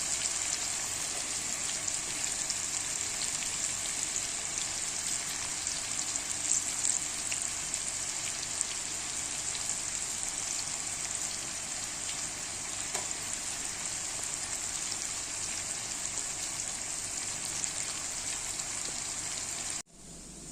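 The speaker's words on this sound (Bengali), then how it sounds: "নুন হলুদ দিলে আগে ভেজে নেব" Salt and turmeric fry in a hot pan, giving a steady, even sizzle with no pauses that cuts off abruptly at the very end.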